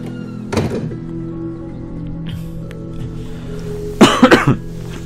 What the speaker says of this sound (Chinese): Sorry， 咳嗽。